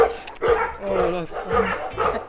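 Several dogs bark in loud repeated bursts close by, with yips and whimpers mixed in, during a visit to meet a future puppy's parents; people talk over the barking.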